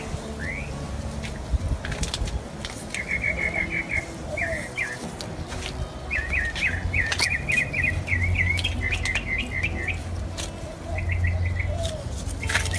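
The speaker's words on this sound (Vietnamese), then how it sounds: "Các bạn nghe tiếng chim hót không?" Birds sing outdoors near a strawberry patch, with repeated bright chirping trills and short phrases coming in bursts over a steady outdoor background, moderately close and fairly clear.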